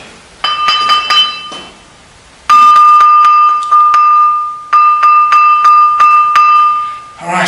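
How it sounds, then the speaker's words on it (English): A stone block from ancient ruins is struck repeatedly and rings with clear, sustained bell-like tones in three bursts of sharp strikes, loud and close. "You realize that this thing really rings like a bell"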